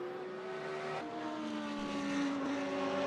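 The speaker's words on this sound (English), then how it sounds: "listen to that engine" Race car engine droning steadily in Gran Turismo at the Portimao circuit, a continuous tonal whine that shifts pitch slightly partway through, with no talk over it.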